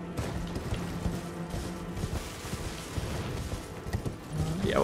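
In Elden Ring, a horse elevator grinds and clanks along with scattered mechanical knocks and rattles over a low hum, a rising whoosh coming in at the end.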